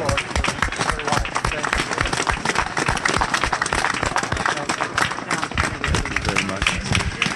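Audience at a memorial service for the homeless stands and applauds, dense continuous clapping close and fairly loud throughout, with a crowd murmur underneath.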